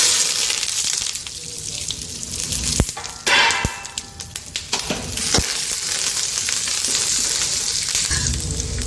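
Mustard seeds, chillies, curry leaves and chana fry together in hot oil in a pan, a close, steady sizzle with a few sharp pops and clinks, briefly stirred, without talk.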